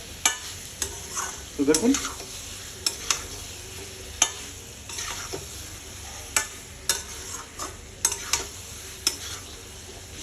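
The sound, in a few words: sautéing masala for egg curry in a pan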